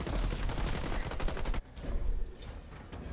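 Rapid machine gun fire from a turret in the real-time strategy game Halo Wars 2, firing on a crowd of grunts. A dense rattling burst cuts off sharply, then quieter scattered battle noise continues, with no voice over it.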